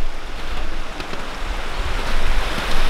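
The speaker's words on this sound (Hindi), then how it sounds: "ये मेरे पीछे झरना बह रहा है" A waterfall flows in snowy mountains toward the Kunhar River, making a steady, broad rushing roar close by, with gusts of wind buffeting the microphone and no voices.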